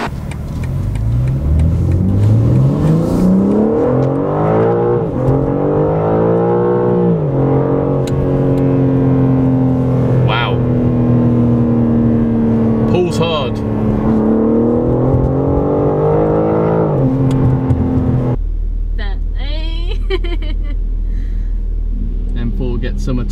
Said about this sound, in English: Big motor, trying to cool itself down, because obviously we've been hooning up and down.